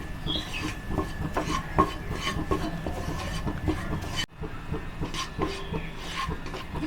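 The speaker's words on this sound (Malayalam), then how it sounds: "ഒരു 2-3 മിനിറ്റ് ഈ മൈദ നമുക്ക് ഈ ബട്ടറിലിട്ട് നന്നായിട്ടൊന്ന് വഴറ്റിയെടുക്കാം." Flour (maida) is sautéed in butter in a pan, with a spatula scraping and rubbing across the pan in soft, irregular strokes that continue with one short break.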